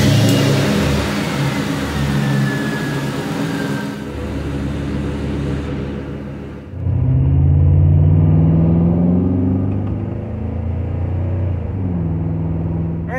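A Ford Crown Victoria driving on the road after a mass airflow sensor replacement, its engine rumbling steadily and rising and falling as it accelerates, close and loud with no talk.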